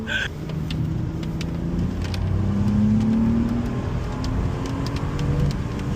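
A 2018 BMW M2 engine drones steadily under acceleration, with rising tonal whine and a faint turbo whistle over the road noise.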